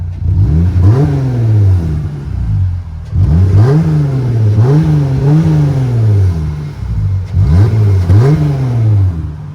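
A Jeep Gladiator's cut exhaust with an added tip rumbles and revs up three times in a row, each rise followed by a throaty settle back to idle, loud and close.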